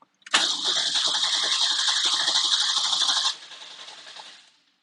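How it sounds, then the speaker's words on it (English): A 1992 Isuzu pickup engine cranks and catches, then runs at a steady, rising roar for about three seconds before dropping back to a quieter idle and fading. "Ooh, I can hear it, the RPM accelerate."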